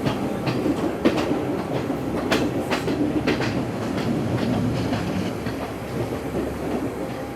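Ella Odyssey passenger train in Sri Lanka slowing on its run from Ella to Ambewela, a steady loud rumble of wheels with repeated clickety-clack rail joint beats over the full stretch, no voices.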